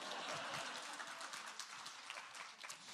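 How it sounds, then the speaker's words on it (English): An audience at the Aspen Ideas: Health closing session applauds, a steady wash of many hands clapping together, heard from a distance and fairly soft, sustained for a few seconds and easing slightly toward the end. "You can clap for that, too."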